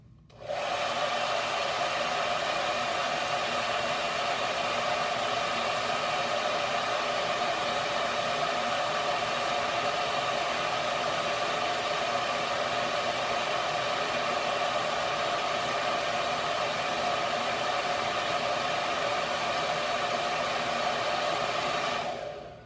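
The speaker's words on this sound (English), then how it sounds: "I'm going to hit this with a hair dryer on highest heat setting" A hair dryer on its highest heat setting runs steadily at full blast for the whole stretch, a constant loud whooshing hum with no pauses.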